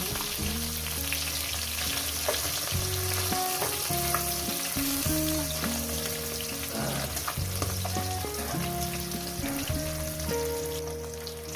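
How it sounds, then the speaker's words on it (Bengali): Small young rohu fish fry in hot oil with a continuous, close crackling sizzle that stays dense throughout, while tuneful background music plays underneath. "মাছগুলো আমার ভাজা হয়ে গেছে"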